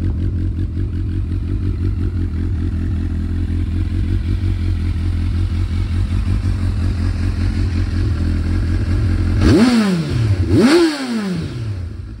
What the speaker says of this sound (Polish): jak słychać, motocykl wcale nie jest głośny